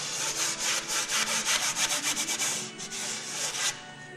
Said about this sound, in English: This is my favorite sander, a drywall screen